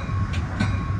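Inside a Metra Union Pacific North Line commuter train near Chicago, a steady low rumble of wheels on rails carries faint rhythmic clacks, with no voices.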